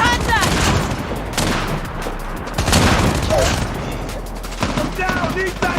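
Rapid gunfire crackles from weapons in the Call of Duty Mobile video game, dense overlapping bursts and shots alongside game sound effects and a voice.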